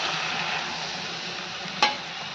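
Masoor dal with a little added water is stirred in a pan: a steady, close, broadband wet rasp continues throughout, with one sharp scrape or knock near the end.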